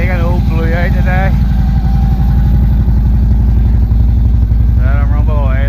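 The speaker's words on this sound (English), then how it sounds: "Let him rumble away there. Get the engine nice and warm." A motorcycle engine idles and warms up close by, a steady low rumble throughout while someone talks over it.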